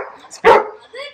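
A pet dog answering a speak command with a single loud, close bark, with faint whimpery tones and a voice just before and after it.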